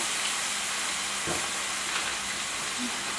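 White wine vinegar sizzles and hisses in a hot pan, a steady close frying crackle with a couple of brief clinks, no voices.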